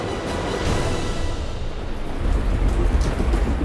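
Heavy rain pours steadily during Storm Martin, a violent French windstorm striking the coast, with deep rumbling thunder and gusting roar that swells louder toward the end; no voices are heard.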